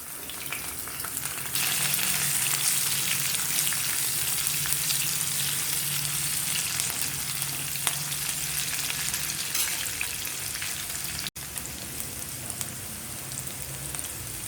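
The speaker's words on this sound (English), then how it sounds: "after the jeera splutters, let us add the garlic and the green chillies" Garlic and green chillies fry in hot oil with spluttering cumin seeds for an aloo methi sabji, a dense, continuous crackling sizzle close by, with a brief stir partway through.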